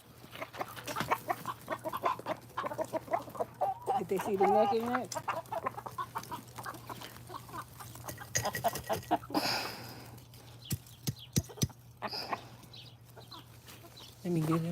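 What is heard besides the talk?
chickens clucking at feeding time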